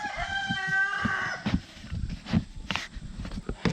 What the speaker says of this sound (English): He crows after I take the camera off of him.